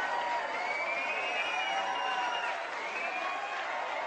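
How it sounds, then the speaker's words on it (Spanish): Crowd applause at a boxing match, steady dense clapping and cheering from a large audience around the ring, sustained and fairly loud, with some whistling tones riding above it. "Aplausos, aplausos."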